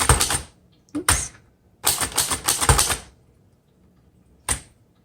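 Typing on a 1929 Underwood four-bank vintage typewriter with a wood-grain finish: close, crisp bursts of rapid key strikes in several runs, separated by short pauses, with a final lone clack.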